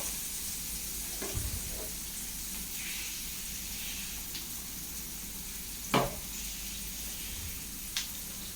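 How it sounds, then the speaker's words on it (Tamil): Onions sautéing in a pan for greens sambar, a low steady sizzle running throughout with a few sharp scrapes of a utensil against the pan, heard close and without talk. "வெங்காயம் நல்லா வதங்கட்டும்"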